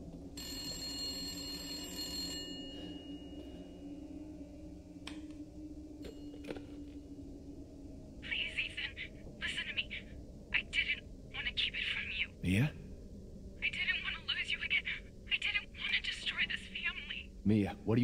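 A telephone rings in Resident Evil Village, with a bright ringing tone early on and then bursts of in-game ringing and noises behind a voice speaking.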